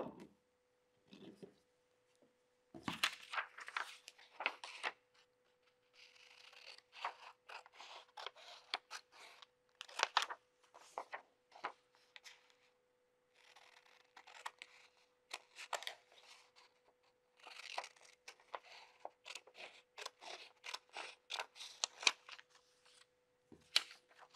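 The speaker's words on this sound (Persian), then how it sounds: "دور تا دور الگومو قیچی میزنم و الگومو از هم دیگه جدا میکنم" Scissors cut around a paper skirt sewing pattern, separating its pieces, with repeated crisp snips and slicing in bursts and short pauses, close and clear over a faint steady hum, with no talking.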